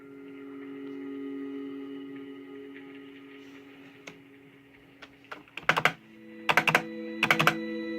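Computer keyboard typing during a Minecraft session on a PC, a few scattered key clicks followed by short rapid bursts of typing, close and fairly loud against a quiet steady background hum, with no talking.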